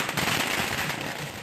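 Firecrackers set off by party supporters celebrating in the streets of Maharashtra, a quick rattling run of sharp bursts over a short stretch, moderately loud and without speech.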